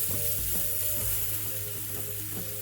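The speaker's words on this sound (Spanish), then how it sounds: "Estos los vamos a freír por un par de minutos y estará listo." Strips of red bell pepper sizzle steadily in hot oil in a pan, a close, continuous frying hiss with occasional stirring and no talk.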